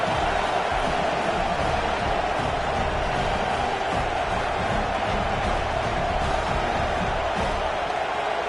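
Stadium crowd at an Auburn at Arkansas college football game, a dense continuous roar and murmur of a large audience filling the space without breaks, with no distinct voices standing out.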